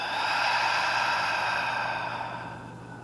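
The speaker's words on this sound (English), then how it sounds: "one final breath together, inhaling through the nose. Exhaling through the mouth." A slow, deep breath is drawn in through the nose and then released through the mouth as a soft, airy sigh, close and quiet, fading gently toward the end.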